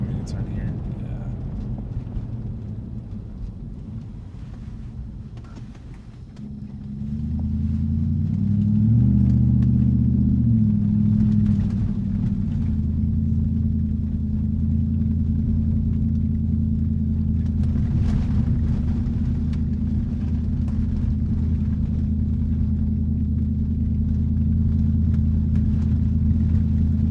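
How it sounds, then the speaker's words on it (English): An old luxury car rolls over a rough, frozen road, a low steady rumble of engine and tires filling the cabin after a rising surge of acceleration, with occasional bumps and knocks from the surface. "This is a really rough road. This is all frozen."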